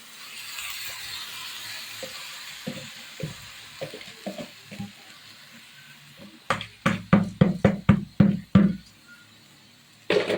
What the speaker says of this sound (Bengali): এখন আমরা চালগুলো দিয়ে দিব।